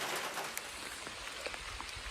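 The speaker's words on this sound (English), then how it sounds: "Gun hunting in the rain sucks." Steady rain falling outdoors in a Wisconsin field during gun deer season, a soft even hiss with faint scattered drops pattering nearby, no voices.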